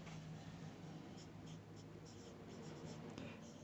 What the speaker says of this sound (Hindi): तो यहाँ पे लिखेंगे नाउ